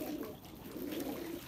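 Pigeons cooing softly in a bird loft, low murmuring coos repeating steadily over faint background noise.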